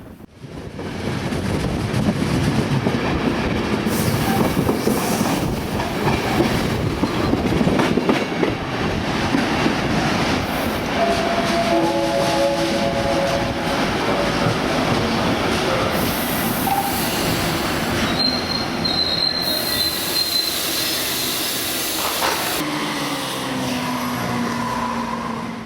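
A passenger train runs through a final tunnel on the approach to Rijeka station in Croatia, its wheels rumbling and clacking steadily with a broad roar and wind buffeting for the whole stretch, plus brief squeals and tonal whines partway through.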